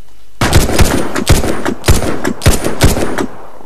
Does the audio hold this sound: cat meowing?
no